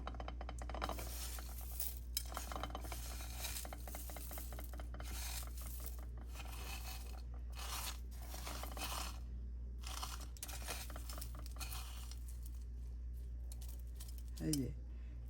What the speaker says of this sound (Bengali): কর্নফ্লেক্সের মধ্যে এখন এটাকেও সুন্দরভাবে গড়িয়ে নিচ্ছি